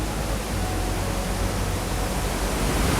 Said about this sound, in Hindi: ऐसे ही नहीं है दुनिया का सबसे बड़ा वाटरफॉल।